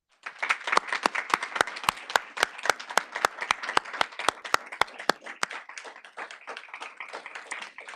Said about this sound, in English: I'd like them to stand and be recognized with a round of applause